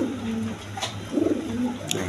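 Pigeons kept for breeding give soft, low, repeated coos close by, with a faint voice and light handling noises in the background.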